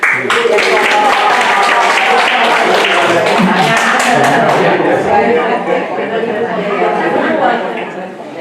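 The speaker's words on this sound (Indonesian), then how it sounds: "Jadi tepuk tangan untuk Bapak Ibu dari Depok." Audience at an International Day of Older Persons commemoration clapping, loud dense applause mixed with voices and chatter, strongest early and gradually thinning toward the end.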